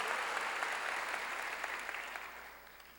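A church congregation applauds during a sermon, a dense, even wash of many hands clapping that holds steady and eases slightly toward the end, with no voices over it.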